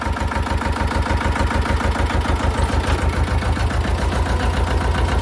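A small tractor engine idles nearby with a loud, steady, rhythmic chugging of evenly spaced low thumps that continues unbroken the whole time.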